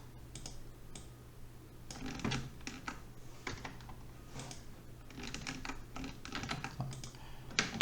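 Computer keyboard keys tapped to press the Ctrl-X cut shortcut while editing in Microsoft Word, a series of light, close plastic clicks in irregular bursts over a steady low background hum.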